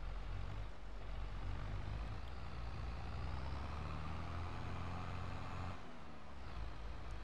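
A truck climbing a steep rocky hill in Farming Simulator 22 on a parkour map, its engine a steady, loud low drone that holds constant throughout, no talking.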